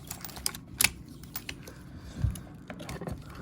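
A strap tab locks into an MPM ratchet with one sharp, close click, followed by softer taps and a dull thump; no one speaks.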